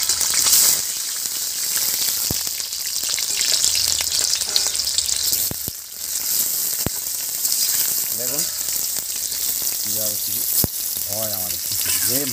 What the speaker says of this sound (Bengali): আলু আর গাজর একসঙ্গে ভেজে নিচ্ছি বন্ধু।